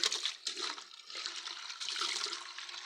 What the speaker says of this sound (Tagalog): overflowing lang yung tubig namin. Kasi puno na yung tangke namin.